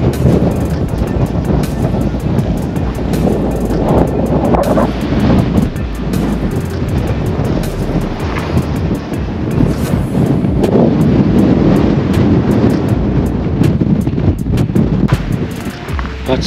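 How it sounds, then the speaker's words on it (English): Strong wind on the summit of Roys Peak near Wanaka, New Zealand, roaring and buffeting the microphone in loud, continuous gusts. "The wind is too much here and it's too chill"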